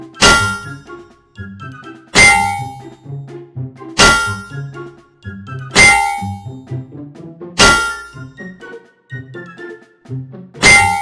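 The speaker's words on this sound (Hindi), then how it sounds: "तब माही, अर्जुन और रंजीत ने मिलकर डंडों से उस कार की खूब धुनाई की।" Wooden sticks beat a parked car outside a temple, producing loud, sharp metallic clangs with ringing tones at a steady pace of about one every two seconds, separated by lighter knocks.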